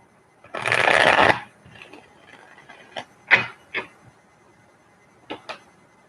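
Tarot cards riffle in one close, dense burst of shuffling, followed by a few soft taps and card clicks as the deck is squared, with no talking.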